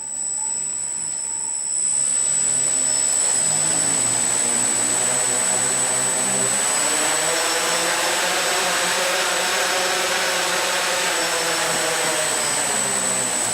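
The electric motors of a Parallax Elev8 quadcopter spin up as it tries to lift off. A loud, steady whine swells after a couple of seconds and holds close and continuous, with a sharp high-pitched tone running through it and no voices.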